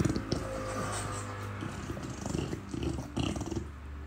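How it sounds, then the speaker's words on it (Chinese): A dog eating from a slow feeder bowl gives low, rhythmic grunts in close bursts, rumbling and slightly uneven. "给大家听狗狗声"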